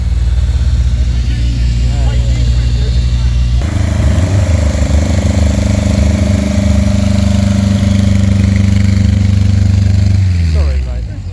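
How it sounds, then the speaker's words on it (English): Racing car engines at a Brooklands Museum motorsports day start up one after another and settle into a loud, steady idle, a rough low rumble that runs throughout while people talk nearby. "Getting the engines fired up."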